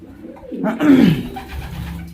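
Pigeons in a cabin give a single drawn-out, warbling coo that swells and falls, close by, over a low background hum and faint rustling, with no voices.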